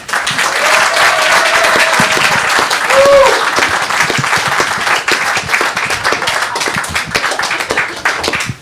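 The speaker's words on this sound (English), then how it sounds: "warm applause for Ann Ambia" An audience claps warmly and continuously for a speaker being welcomed to the stage, with a brief whistle or two rising above the close, dense applause.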